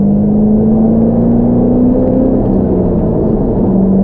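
A 2017 Ford Raptor pickup truck passes close by, its engine a steady loud rumble and whir that swells and then eases over four seconds with no talk.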